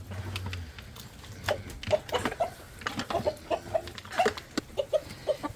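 Several chickens cluck and murmur in short, overlapping bursts, close by, with soft rustling and patter between calls.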